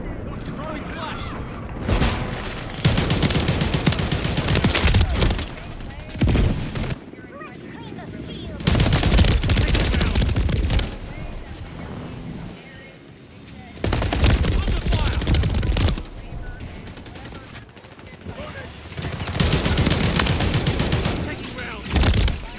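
Loud bursts of automatic gunfire and heavy shots from the Call of Duty: Modern Warfare 3 video game come in several long volleys separated by short lulls, with a voice talking at times among the firing.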